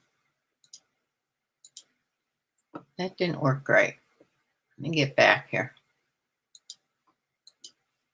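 Faint, sparse computer mouse clicks tick at intervals around a few short phrases of a woman's speech while she works on a screen.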